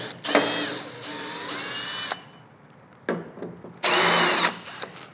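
Cordless power driver backing T25 Torx screws out of a 2014-2019 Chevy Silverado / GMC Sierra tailgate with a Line-X liner: close whirring bursts of varying length with rising and falling motor pitch, separated by short pauses.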